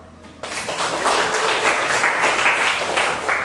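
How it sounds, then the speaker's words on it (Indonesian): A class bursts into applause after a short pause, with steady, dense clapping from many hands that continues to the end. "Saya aplaus untuk kalian semua"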